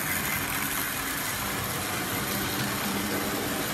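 A Duchess of Sutherland model locomotive runs past as a soft, even mechanical hum and rumble, faint and steady, with no voices over it.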